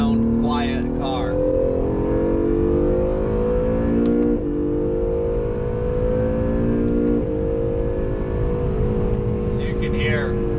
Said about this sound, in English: So you can hear, car's got great acceleration.